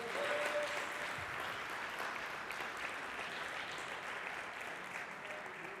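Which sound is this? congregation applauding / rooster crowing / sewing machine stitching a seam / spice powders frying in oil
congregation applauding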